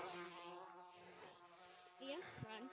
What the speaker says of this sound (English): Bro, those bees are after me!